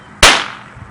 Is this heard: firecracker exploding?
yes